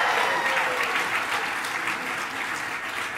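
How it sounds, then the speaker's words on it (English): A crowd applauds steadily after a children's performance of a Christmas show, a continuous full wash of many hands clapping at even loudness throughout, with faint crowd murmur beneath. "Give him one more round of applause."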